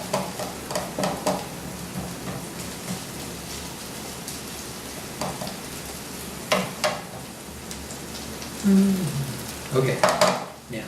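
Onion and bay leaf get stirred in oil in a pot, a soft sizzle running throughout with a few scraping clatters of the spoon against the pot, louder near the end.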